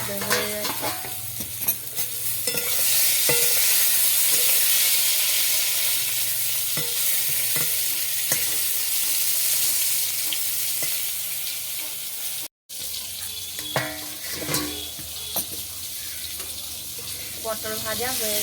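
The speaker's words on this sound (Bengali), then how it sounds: "পটল ভাজা হয়ে গেছে" Slices of pointed gourd (potol) fry in hot oil in a pan, giving a steady, fairly loud sizzle throughout, with scattered clicks and scrapes of a utensil turning the pieces and one brief dropout.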